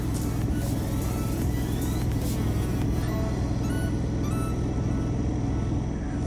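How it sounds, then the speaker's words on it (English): Steady broadband engine drone of a generator warming up at a mobile car-detailing setup, a continuous loud low hum with no pauses and no talking. "we are warming up the generator"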